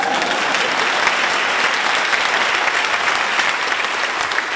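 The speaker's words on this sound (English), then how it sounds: "That's the part when you clap." Steady, dense applause from an audience at a motivational speech, a continuous even wash of many hands clapping with no talk over it, sustained throughout.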